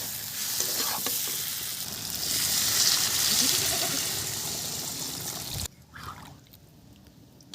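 Water is poured into a pan of dry-fried spice paste for a duck egg curry, giving a loud, steady sizzle and splutter for several seconds that then cuts off sharply into quieter bubbling.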